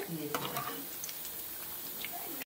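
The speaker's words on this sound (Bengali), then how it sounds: "তো আমি বাকিগুলো এইভাবেই ভেজে নেব" Paneer pieces fry in oil in a kadai, giving a steady, close sizzle with a few stirring clicks and scrapes near the start. The sound runs unbroken for a couple of seconds and then cuts off abruptly.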